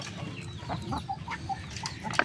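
Four-month-old Gold Shamo pullets in a yard, giving a string of short clucks and chirpy calls at a moderate distance over a low outdoor background, with no talking.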